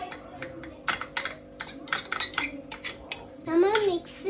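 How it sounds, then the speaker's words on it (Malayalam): A fork clinks and scrapes against a bowl while food is mixed, quick irregular metallic taps and scratches close by, with a voice speaking intermittently and a brief higher-pitched vocal sound near the end. "ഓക്കെ, ഇനി നമ്മൾ മിക്സ് ആക്കണം. ഇപ്പോൾ ഒരു ഫോർക്ക് ഉണ്ട്, സ്പൂണാണ് പക്ഷെ ഫോർക്ക് എടുത്തത്."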